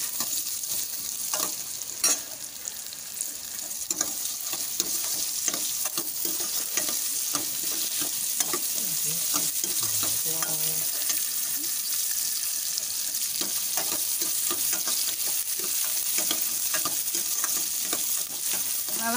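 Prawn kulambu masala with curry leaves sautéing in a pan, a steady close sizzle with scraping and stirring clatter running throughout, a few brief water or tap sounds mixed in, no talking.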